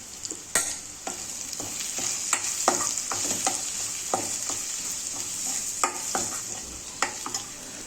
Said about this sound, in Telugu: సరిపడినంత కారం, సరిపడినంత ధనియా పౌడర్ వేసేసుకొని మొత్తాన్ని ఒక 2 మినిట్స్ ఇలా మగ్గించుకోవాలి.